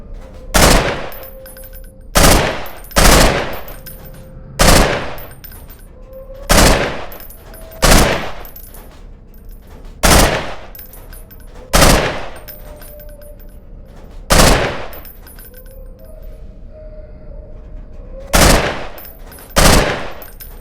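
Gunfire at pop-up targets in the Underhell mod of a video game, loud sharp shots in irregular single and paired bursts across the clip, no talk.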